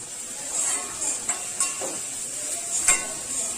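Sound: stirring salted potatoes and onions in a pan

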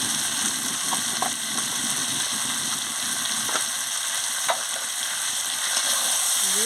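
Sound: young jackfruit curry being sautéed in oil

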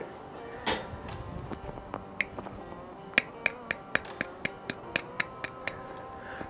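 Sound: crispy grilled chicken skin crackling when tapped

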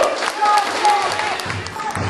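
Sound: applause at a political rally speech

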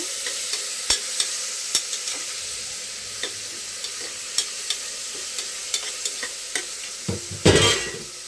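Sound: tomatoes frying and being stirred in a pan

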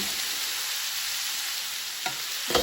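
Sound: lamb meatballs stewing in a covered pan

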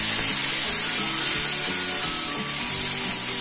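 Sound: masala puree frying in pan for matar paneer

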